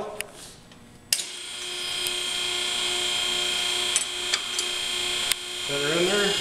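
A hydraulic tube bender fitted with a bulldozer die runs with a steady mechanical hum and tonal whine. It is punctuated by a few sharp clicks, and a rising whir swells near the end.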